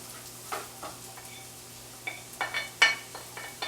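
Seasonings and vegetables hitting ghee and bacon grease in a hot pan, giving quiet, scattered sizzles and stirring scrapes in short bursts, close up and with no talk.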